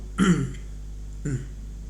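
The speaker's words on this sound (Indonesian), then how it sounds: "Agak batuk." Two short throat clearings, a louder one followed by a briefer one about a second later, close by with a quiet hum behind.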